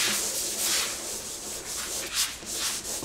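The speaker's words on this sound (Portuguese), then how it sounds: "não inventaram nada mais chato do que lixar a parede" Steady, gritty rubbing of sandpaper scraping over a wall surface, continuous and close, with no voices.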